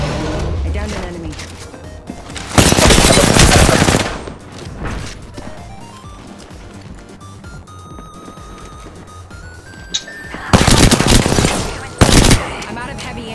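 Bursts of automatic weapon fire in the shooter game Apex Legends, two loud rapid volleys separated by quieter game ambience, with a final short burst near the end.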